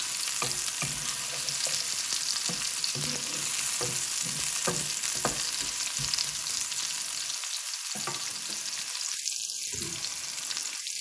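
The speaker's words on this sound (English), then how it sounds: "we're going to cook the onions until they're soft and brown" Onions for chicken biryani fry in a pan with a steady, dense sizzle, broken by rhythmic stirring scrapes early on, then a pair of brief hissing bursts near the end; nobody speaks.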